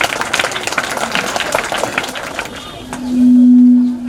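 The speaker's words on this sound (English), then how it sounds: "Claps." Audience clapping at a school Independence Day celebration, a dense burst of applause for about two and a half seconds that fades away, followed by a loud steady hum.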